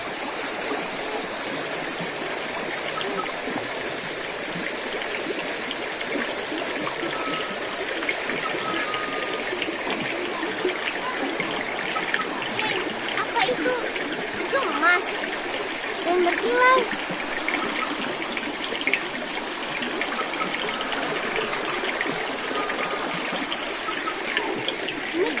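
A river stream flows steadily, a continuous broad rush of water with occasional small splashes throughout, moderately loud and unbroken.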